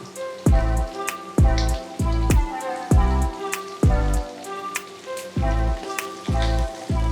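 Curry leaves, ginger and garlic frying in a pan for a quail egg roast curry, giving a loud steady sizzle with regular clinking strikes of a spoon against the pan, close up and without talking.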